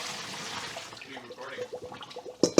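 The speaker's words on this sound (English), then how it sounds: "I was washing the grapes so I can put them in the bags." Grapes being washed in a bowl of dirty water at home make soft swishing and sloshing, faint and close, with a louder splash near the end.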